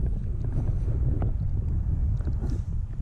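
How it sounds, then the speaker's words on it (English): On a fishing boat out for smallmouth bass, wind buffets the microphone in a constant low roar that rumbles without a break for the whole stretch. "the wind's gonna blow me into the rocks"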